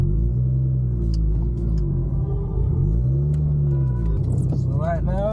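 A Nissan S15 with an RB25 engine warming up, a deep steady idle rumble close by with a slight rise in revs near the end, and a voice speaking over it.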